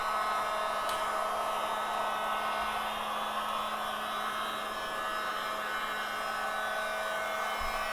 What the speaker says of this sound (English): This coating actually requires you to heat up the tire with a heat gun